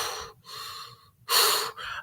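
A voice imitates heavy breathing, with a few loud gasping breaths in and out separated by short pauses and the last one the strongest.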